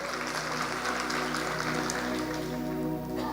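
A church congregation claps together in a dense, sustained round of applause, loud and steady throughout, with faint voices and background music underneath.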